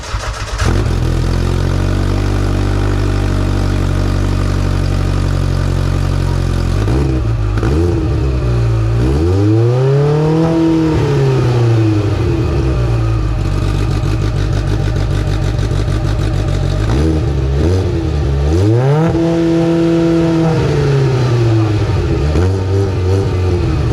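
A motorcycle fitted with a Bikeman center exit muffler starts and idles loudly and steadily, then blips through two rising and falling revs close by, with no voices over it.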